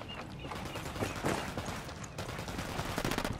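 Rapid bursts of gunfire in Ghost Recon Wildlands, dense overlapping shots crackling steadily for the whole stretch at moderate loudness, with no talk.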